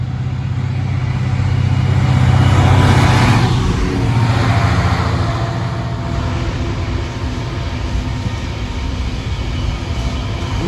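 A Class 66 diesel locomotive accelerates away from Stenson toward Bescot engineers sidings with a loud, steady engine drone, swelling briefly early on and then holding as a continuous rumble, with no voices.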